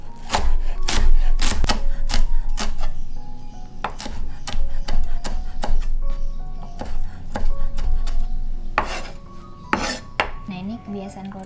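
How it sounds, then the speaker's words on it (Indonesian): Scallion and celery leaves chopped with a knife on a board for Mie Jawa, a rapid run of loud, close taps and clatters with occasional metallic kitchen clinks. "Ini kita cincang aja."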